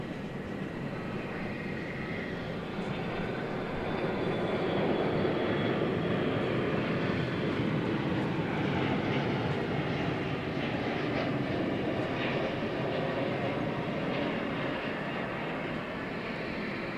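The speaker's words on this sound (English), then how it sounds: "There you go, an 11-year-old aircraft." A jet airliner passes at DFW Airport at night, a steady, broad engine roar that swells slightly and holds for the whole stretch, moderately loud with no talking.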